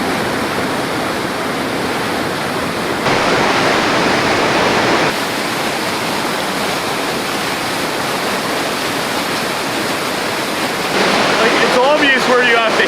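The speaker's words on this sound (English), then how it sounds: "the sound of running water makes your heart elevate" Rushing water of heavily aerated river rapids at a chute in the remote Canadian wilderness, a loud, steady broadband roar that swells in places and goes on for the whole stretch, with voices faintly beneath it near the end.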